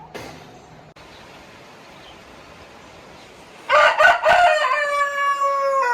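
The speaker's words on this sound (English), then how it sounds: "we've got our Welsummer hens. We've got 3 hens and a cockerel." Welsummer cockerel crowing loudly and close by, several long rising calls from the middle of the clip onward, after a quiet stretch of low farmyard background; hens kept alongside it.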